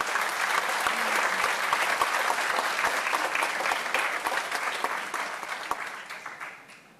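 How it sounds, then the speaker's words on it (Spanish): A church congregation claps loudly and continuously for about seven seconds, a dense even applause that tapers off at the end, with no talk over it. "Denle un fuerte aplauso al Señor por eso."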